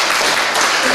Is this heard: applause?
yes